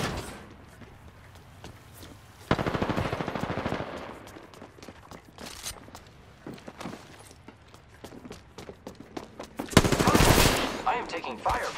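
Gunfire in an Apex Legends arena match, with a long automatic burst, scattered single shots and a second heavy burst near the end, plus game footsteps and clatter between volleys.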